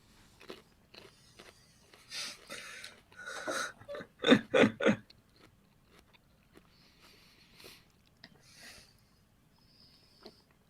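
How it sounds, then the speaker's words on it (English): Someone eats sugar peas, and the crisp bites and crunchy chewing come in irregular bursts. The sound is close to the microphone, with a loud cluster of crunches midway and quieter chewing between them. "Sorry about all the crunching sound. I'm eating some sugar peas."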